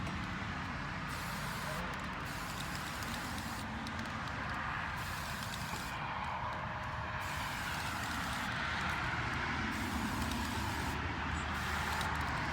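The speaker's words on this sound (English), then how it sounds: "Sorry, the traffic here." Nearby road traffic rumbles past outdoors, a continuous broad roar that swells slightly toward the end, with no talking heard.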